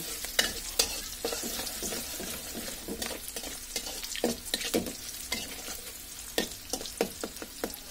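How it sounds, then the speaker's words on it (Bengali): Chicken pieces lightly fry in a pan with browned onion, a soft steady sizzle broken by frequent scraping stirs of a spoon, fairly quiet and close. "আমি মুরগিটাকে একটু হালকা ভেজে নেব।"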